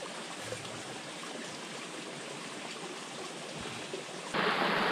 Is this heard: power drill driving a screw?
no